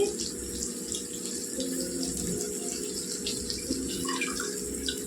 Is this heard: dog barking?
no